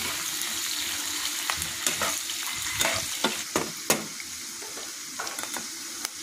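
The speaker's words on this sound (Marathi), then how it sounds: "कांदा भाजायचा।" Onion frying in a pan for a Karnataka-style girmit, a continuous crackling sizzle broken by sharp scrapes and taps of a spoon stirring against the metal, close and moderately loud, with no voices.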